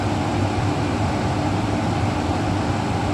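A Sharp air purifier on its maximum fan setting: a loud, constant rushing fan noise, broad and airy, running steadily without change.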